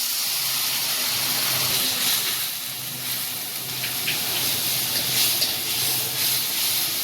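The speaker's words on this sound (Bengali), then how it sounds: "এবার সামান্য একটু জল দিয়ে দেব যেন মশলাটা পুড়ে না যায়।" Water poured into a pan of frying cumin paste, ginger paste and chilli powder for an egg curry: a steady, loud sizzling hiss lasting several seconds, with no talking.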